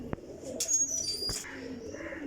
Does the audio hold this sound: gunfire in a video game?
no